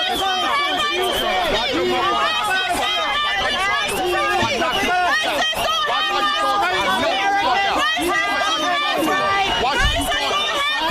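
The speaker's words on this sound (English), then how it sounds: "Now the crowd gets into it." A dense crowd at a rally raises many voices together in loud, continuous chanting and chatter, a close, unbroken wall of overlapping shouts that carries steadily throughout.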